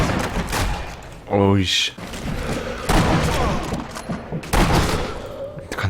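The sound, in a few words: sniper rifle gunshots in video game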